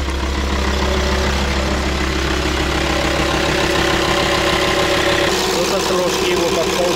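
Car engine idling steadily just after starting, a loud continuous low rumble with a faint knocking texture, with someone speaking over it.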